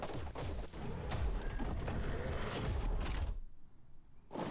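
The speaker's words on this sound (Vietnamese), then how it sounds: "Bắn súng." Rapid gunfire from a mech in ARK: Survival Evolved Extinction, a dense loud burst of repeated shots lasting about three seconds, then a brief quiet gap before another burst starts.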